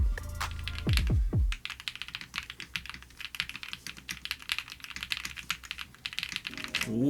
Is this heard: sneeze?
no